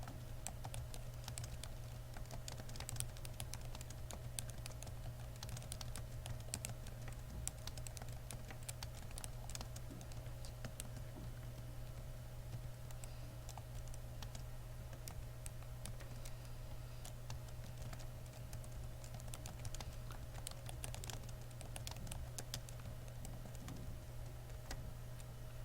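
Fingers type a tweet on a computer keyboard, a quiet, steady patter of key clicks with no pauses, close and faint over a low hum.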